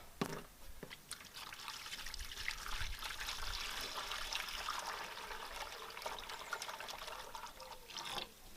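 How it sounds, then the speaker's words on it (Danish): Water pours steadily into a container for washing sports clothing and gear, a continuous close splashing trickle lasting several seconds with a few clunks at the start and end. "Lige komme lidt vand i den her."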